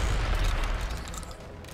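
A deep, rolling explosion boom in the western shooter game Call of Juarez: Gunslinger, loud and close, with heavy low rumble that fades over under two seconds and no talking.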